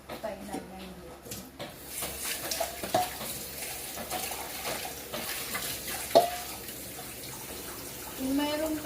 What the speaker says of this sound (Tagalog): nagdagan ko na siya ng tubig para mapainan na yung luto